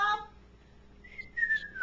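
A person whistles a short wavering tune, a few quiet rising and falling notes after a brief pause, fairly near and soft.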